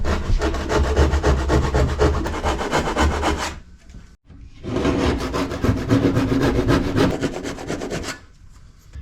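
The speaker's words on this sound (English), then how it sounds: "Finishing it up will be a combination of handsaw and fine tool." A handsaw cuts through wood on a wooden boat's rotten cabinside, a loud, steady rasping stroke rhythm in two long bursts split by a brief pause, with no talking.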